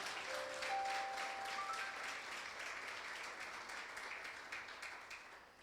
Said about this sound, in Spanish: Dele un fuerte aplauso a Dios, por favor.